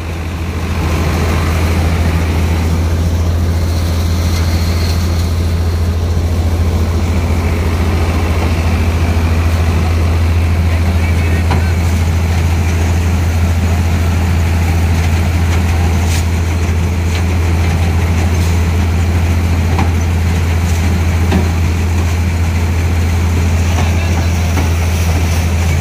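A tractor-driven multicrop thresher of the tokri type runs steadily, a loud continuous low engine drone with mechanical whirring throughout and no voices.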